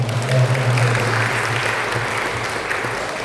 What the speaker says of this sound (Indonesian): Kita kasih tepuk tangan buat Tuhan